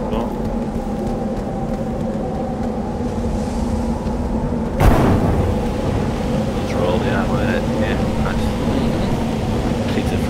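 Stormy weather in the video game Astroneer, a steady wind-and-rain roar with a sharp thunder crack near the middle and faint electronic chirps afterward, heard with no talking over it.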